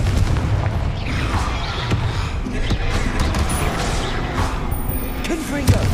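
Confringo spell blasts in Hogwarts Legacy burst as dull booms in quick succession through a dense, noisy battle, with a voice shouting over the din.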